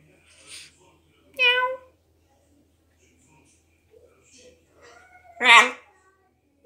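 A voice imitates a cat, giving two clear drawn-out meows, one early and a louder one near the end, among softer babbling sounds and quiet gaps.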